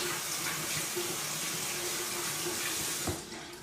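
Steady broadband rush of water pouring from a tap, continuous and close, cutting off near the end with a soft clunk.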